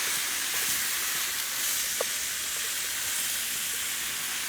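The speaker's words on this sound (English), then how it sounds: "It's sizzling up really good, baby." Lion's mane mushrooms seasoned with salt and black pepper sizzle in a frying pan, a steady soft hiss throughout with no one talking.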